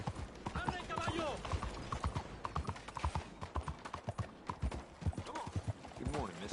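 Horse hooves clip-clopping in a steady trot in the video game Red Dead Redemption 2, with tack rattling and voices talking over it.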